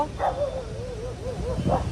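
Dogs bark outdoors amid a crowd of strays on a walk, giving a few sharp, loud yaps at the start and end with whiny, wavering cries in between.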